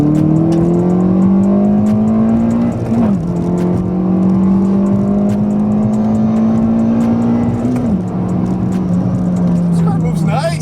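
A 9th-generation Honda Civic accelerates hard in second gear, its engine note climbing steadily, dipping briefly at a shift near three seconds, then rising again to a loud high-rev pitch before easing off near the end.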